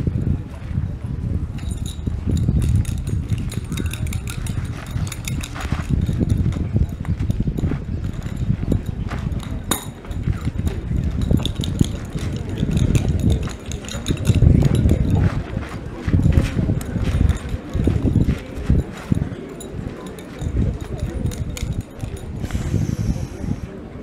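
Horse hooves clip-clopping in a loud, dense, continuous rhythm during an outdoor performance, with people talking and calling out over the steady beat.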